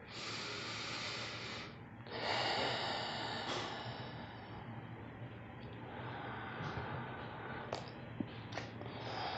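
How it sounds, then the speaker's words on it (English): Deep breathing during a slow yoga practice: long, close, airy inhales and exhales, loudest near the start, fading to quieter breaths with a few small clicks toward the end. "and breathe here"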